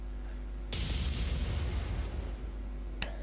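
Naval guns from a warship fire in the Atlantic Fleet strategy game, a single loud heavy boom with a long rumbling tail, then a sharp faint report about two seconds later.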